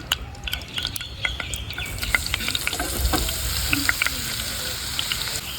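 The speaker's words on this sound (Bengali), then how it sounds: "আমি পেঁয়াজ মরিচ কেটে নিয়েছি তো এবার আমি সুন্দর মতন ভেজে নেব" Chopped onion and chilies frying in a pan, a steady close sizzle with scattered crackles and pops while a utensil stirs them, all without voices.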